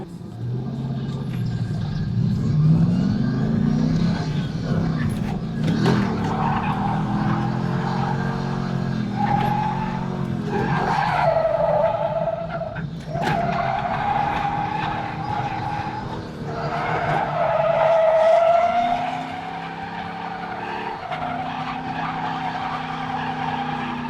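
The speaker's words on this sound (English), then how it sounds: "he's gonna show us how to actually drift a Corvette" A Corvette drifting at a drift event, tires skidding and squealing in long wavering wails over a loud revving engine, sustained and close with shifting pitch.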